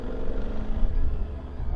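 A QJ Motor motorcycle engine running at idle, a low rumbling drone with uneven pulsing throughout the short stretch, fairly close and moderately loud.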